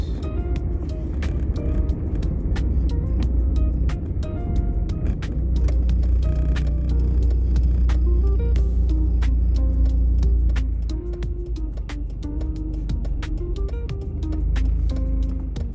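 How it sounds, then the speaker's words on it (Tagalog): Heavy rush-hour road traffic at around four in the afternoon, many cars passing, a dense steady rumble of engines with low drones and scattered mechanical clicks throughout, loud and close. "Medyo marami ng sasakyan ngayon kasi alas 4, labasan na po talaga ng mga nagtatrabaho."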